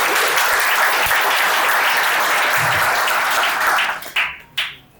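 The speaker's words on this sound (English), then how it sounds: "If you would be so kind, just so kind, to give him a round of applause." Loud, dense applause from a keynote audience fills the room steadily, then breaks off into a few trailing bursts of clapping as it dies away near the end.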